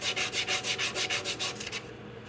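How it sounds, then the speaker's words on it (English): Emery cloth rubs quickly back and forth on a rear brake surface of a 2005 Jeep Laredo, a rhythmic scraping in about a dozen even strokes that stop near the end, close and faint, without speech. "There's a little bit of emery cloth here. We'll clean up the surface for them."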